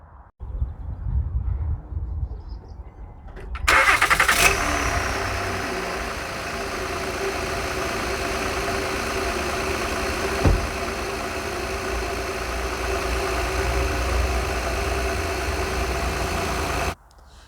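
A 2008 Honda Odyssey 3.5 liter engine cranks and catches, then settles into a steady, even idle that runs on alone for over ten seconds, close and fairly loud.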